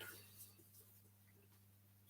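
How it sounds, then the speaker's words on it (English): After a near-silent stretch in an aircraft hangar with a low hum, a single abrupt cough bursts out at the very end. "Still got that cough, haven't I?"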